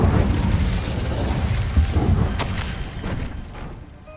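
Incendio fire spell from Hogwarts Legacy, a loud roaring whoosh of flame with booming thumps and crackles, sustained for a few seconds before tapering off, no voices.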